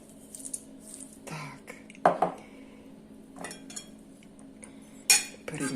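Green papaya salad with toasted seeds gets mixed in a bowl, with scattered scrapes and clinks of utensils against the dish, a couple of sharper knocks, and faint talk in the background.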